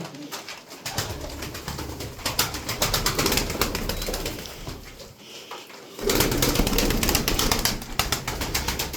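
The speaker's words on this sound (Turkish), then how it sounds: "kuşlar burada" Pigeons cooing in a steady, overlapping chorus nearby, with occasional rustling and flutters of wings throughout.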